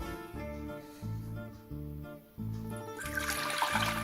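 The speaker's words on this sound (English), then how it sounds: "Add some water." Water is poured into a clean pot for making tea without electricity, a running, splashing pour that changes pitch as it goes and grows brighter and louder toward the end, with no speech.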